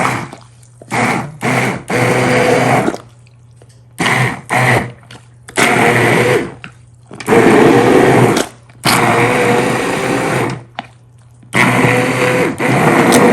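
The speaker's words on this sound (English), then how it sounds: "Just gonna take my emulsifier, just get in there and turn it into this" An immersion blender purees a long-simmered homemade pasta sauce on a kitchen counter, running loud and close in several whirring bursts of a few seconds each, with short pauses between them.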